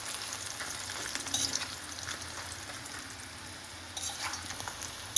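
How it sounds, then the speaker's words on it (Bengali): Taro stolons (kochur loti) fry in oil in a pan over low flame, a soft continuous sizzle with intermittent scraping as the pieces are turned, close and fairly quiet, with a louder knock at the very end. "এখন উল্টিয়ে পাল্টিয়ে খুব সুন্দর করে ভেজে নিচ্ছি।"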